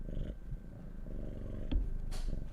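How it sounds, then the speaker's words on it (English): A cat named Weasel purrs while curled up in a lap, a steady low rumbling purr that runs close and continuous with soft rhythmic pulses, alone without talk. "This is why you hear purring."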